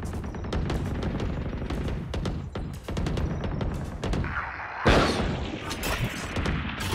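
A grenade blast and gunfire in the video game Valorant, with dense rapid shots throughout and one loud explosive burst partway through, followed by more firing.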